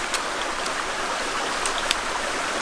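Creek water on a hiking trail near a waterfall in Subic Bay, Philippines, rushing in a steady, close, hissing wash with occasional small splashes and no voices.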